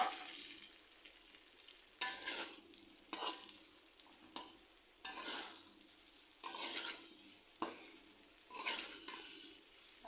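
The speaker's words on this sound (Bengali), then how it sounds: "আবার ভালো করে মশলার সাথে এগুলো মিশিয়ে নিচ্ছি" Crab curry cooked with taro stolons gets stirred and fried with cumin, ginger and garlic paste: a steady sizzle broken by repeated scraping strokes of a spatula against the pan, close and alone with no talk.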